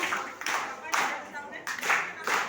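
Rhythmic hand clapping in groups of sharp claps at a wedding song session, loud and close with brief pauses between bursts, no talking.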